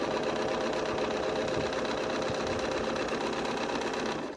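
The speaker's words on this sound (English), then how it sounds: "You probably don't even need to watch me sew this" A sewing machine runs steadily while stitching quilt pieces together, a fast, even mechanical whir heard up close without pause, slowing slightly at the end.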